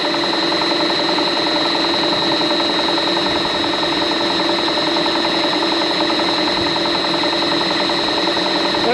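An air compressor's engine runs hard at high revs, giving a loud, constant mechanical drone with a steady rattling vibration and no pauses.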